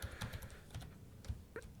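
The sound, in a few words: typing on a computer keyboard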